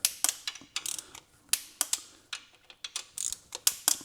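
A torque wrench clicks and ratchets in quick, uneven bursts as bolts on a Mini R56 are tightened to 10 newton meters, the sharp close ticks standing alone without talk.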